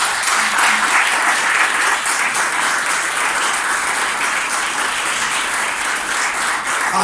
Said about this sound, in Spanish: Vamos a aplaudir al Señor Todopoderoso